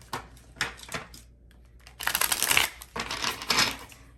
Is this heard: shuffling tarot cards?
yes